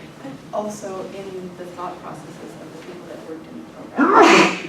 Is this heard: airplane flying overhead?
no